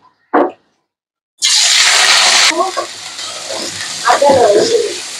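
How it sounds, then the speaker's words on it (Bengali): Chicken pieces dropped into hot oil in a heated wok burst into a loud, steady sizzle after a short knock, then settle into a lower frying crackle with a few stirring scrapes. "তেল দিয়ে দিছি, কড়াই গরম হয়ে গেছে, চিকেনটাকে দিয়ে দিই।"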